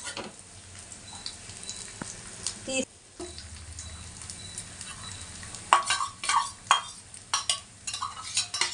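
Mutton sizzles and fries in a pan after paneer, with a steady crackling hiss under frequent scraping and stirring clatter from a utensil against the pan, the stirring growing busier toward the end.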